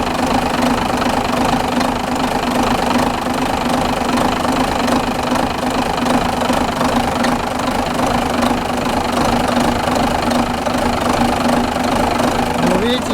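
A Renault Major tractor engine runs steadily with a rough, knocking mechanical clatter and a constant low drone, loud and close throughout; possible exhaust leak.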